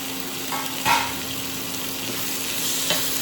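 Tomatoes and a green chilli sautéing in a pan, with a steady sizzle close by and a couple of short spatula scrapes, one at about the first second and another near the end.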